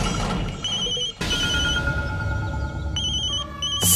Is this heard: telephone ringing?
yes